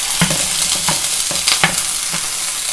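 Cherry tomatoes sizzle in a frying pan with a steady hiss, broken by several sharp pops and utensil taps spaced through the moment, close and fairly loud, no voices.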